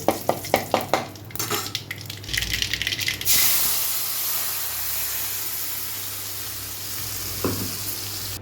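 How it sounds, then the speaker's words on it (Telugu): Curry leaves and asafoetida crackle in hot oil with sharp pops, then a ground onion-tomato paste for chutney hits the pan in a sudden loud sizzling hiss that settles into a steady frying sizzle, with one later stir. "కొంచెం కరివేపాకు, ఇప్పుడు గ్రైండ్ చేసి పెట్టుకున్న పేస్ట్ని యాడ్ చేద్దాము."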